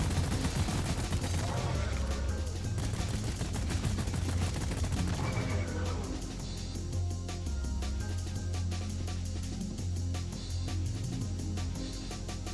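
An overclocked weapon fires in the Deep Rock Galactic video game: a dense, continuous stream of rapid shots over a steady game soundtrack with heavy low rumble, loud and unbroken throughout.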